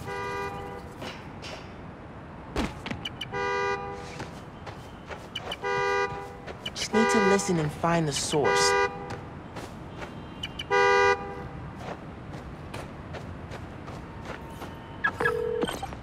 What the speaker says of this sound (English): Now I can use the fob to find the car.